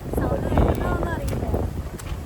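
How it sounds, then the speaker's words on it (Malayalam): Wind buffets an outdoor microphone in steady low rumbling gusts that roar throughout, while a voice talks over it. "കാറ്റുള്ളത് കൊണ്ട് ഫുള്ളായി പറയുന്നത് എത്രത്തോളം കേൾക്കുന്നുണ്ടെന്ന് അറിയില്ല"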